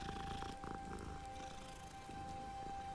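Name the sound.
cat purring in the video game Hogwarts Legacy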